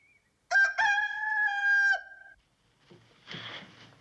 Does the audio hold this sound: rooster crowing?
yes